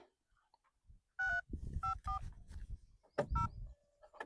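A phone number punched in on a keypad, a handful of distinct dial tones beeping one after another with short gaps, with faint rustling and movement between the presses.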